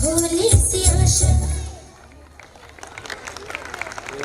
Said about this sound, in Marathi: टाळ्या जोरात झाल्या पाहिजेत